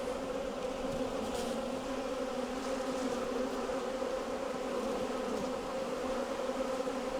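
A dense swarm of honey bees hums steadily around a hive, a continuous close, even buzz with no pauses and no voices.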